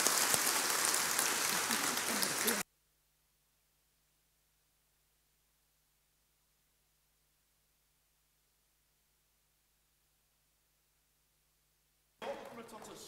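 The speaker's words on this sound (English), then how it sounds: "Let's give them a round of applause and say thank you." An audience applauds in a burst of dense clapping that cuts off abruptly into a long silence, then another brief round of applause follows near the end.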